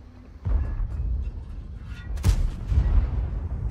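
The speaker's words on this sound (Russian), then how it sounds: "Только что я выстрелил СТ-1 в конверт." A single heavy cannon shot from an ST-1 tank in a tank battle video game booms near and loud, followed about two seconds later by a second sharp blast. Rumbling game ambience continues underneath.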